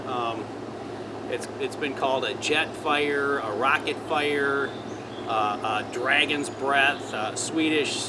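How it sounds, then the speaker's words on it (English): A backyard air conditioner runs steadily in the background, a low continuous drone under a person talking throughout. "You can probably hear an air conditioner running in the background."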